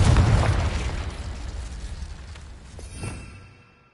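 A Confringo fire spell goes off in Hogwarts Legacy as a loud, close explosion: a deep, booming burst opens the sound and rumbles away over a few seconds, with a smaller secondary thump before it fades out.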